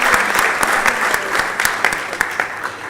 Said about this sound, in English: Please, let's clap for them